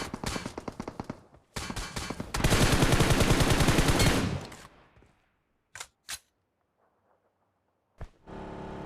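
Rifle fire sprayed in the mobile battle-royale game BGMI: rapid automatic bursts, loud and close, building into a dense sustained volley before trailing off, followed by a few isolated sharp shots.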